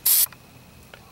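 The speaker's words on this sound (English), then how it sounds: "I'm going to spray a little bit of paint on there so it doesn't rust." A single short burst of spray paint hisses onto the bare metal of a 2010 Chevrolet Silverado truck, loud and close, followed by faint clicks and near quiet.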